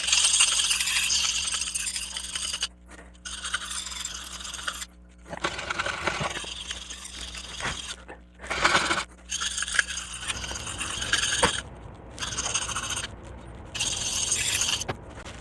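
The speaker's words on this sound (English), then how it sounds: "I'm gonna do a little bit of time with the rough side just to get these notches out a little bit more" An S90V steel knife blade is drawn over the rough side of a sharpener in repeated gritty, scraping strokes with brief pauses between passes, close and steady throughout.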